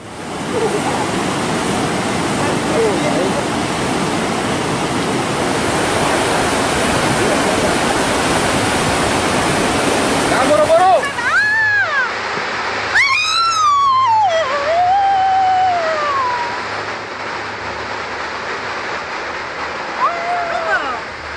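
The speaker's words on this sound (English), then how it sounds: "Flash floods and landslide are devastating natural disasters that wreak havoc on people's lives and homes." Flash flood water rushes in a loud, continuous roar for about ten seconds, then the torrent carries on more quietly beneath excited voices shouting and calling out over it.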